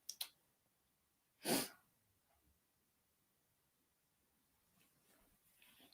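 A single sharp sneeze bursts out, close and clear, in an otherwise quiet room with faint breathing and small rustles around it.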